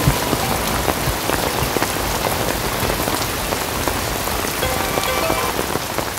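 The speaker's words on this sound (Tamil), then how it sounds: "மழை வேற பெஞ்சிட்டு இருக்கு." Steady rain falls on hard surfaces outside a home, a dense, even patter of drops at moderate loudness throughout, with no voices.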